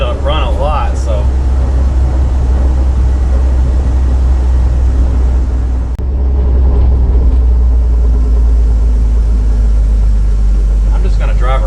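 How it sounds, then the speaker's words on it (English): A car engine runs steadily while driving, a loud continuous low rumble throughout with a voice talking over it early on. "I'm just gonna drive around for a bit,"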